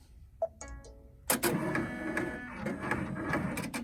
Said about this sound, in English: I'm going to turn my machine on and get it ready to hoop my lunchbox